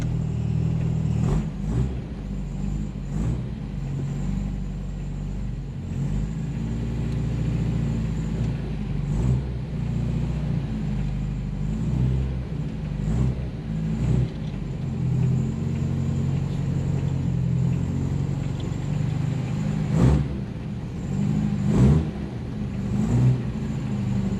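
A carbureted car engine drives and revs: a loud continuous rumble with repeated throttle blips and surges, heard close with no talk.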